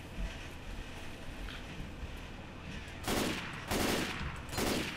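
Gunfire in the Left 4 Dead 2 game, three loud bursts of rapid shots near the end over a steady noisy background of game sound.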